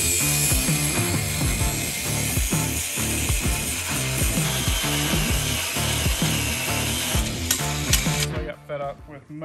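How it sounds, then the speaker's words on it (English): Power cutting tool chopping off a stuck leaf spring bolt on an overland trailer, a loud continuous grinding, rattling roar with rapid mechanical chatter running nearly throughout before cutting out near the end. "Messing with that bolt that won't come out, so I just chop this off and then we're gonna come right through that bolt."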